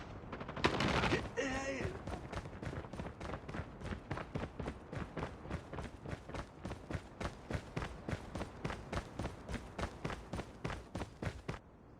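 Rapid repeated gunfire from Call of Duty Mobile, a burst followed by a long evenly paced series of sharp shots, fairly close, with brief game voice callouts mixed in.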